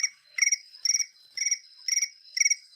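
A phone alarm tone imitating a cricket gives five evenly spaced, clean chirping bursts, each a quick trill of several pulses, alone against silence.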